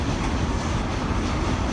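A train in Edinburgh Waverley station, with coaches in First Great Western livery, makes a steady loud rumble of rolling wheels and machinery, continuous and close.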